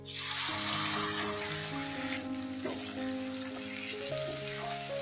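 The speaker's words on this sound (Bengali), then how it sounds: "এবারে এই মশলাটাকে আমি মিনিট 2-এর মতন একটু কষিয়ে নেব।" A ground spice paste fries in a pan with fried onions, giving a soft, even hiss. Tonal background music plays throughout the sizzle, and there is no talk.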